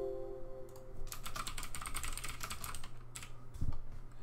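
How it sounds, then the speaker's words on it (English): Quick bursts of keystrokes tapped on a computer keyboard while entering a username during a Windows 7 setup, fairly close and quiet over a low hum, with a brief pause before a final few taps. "Then you type in a username."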